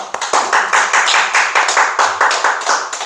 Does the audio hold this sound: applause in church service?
yes